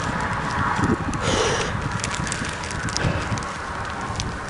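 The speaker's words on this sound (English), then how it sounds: "This wind is absolutely horrendous." Strong wind buffets the microphone on an exposed hilltop, a continuous loud roar with gusty surges throughout and no one speaking.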